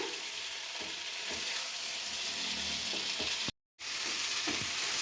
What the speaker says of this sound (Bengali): দেখুন আমার ভাজা ভাজা হয়ে এসছে মশলা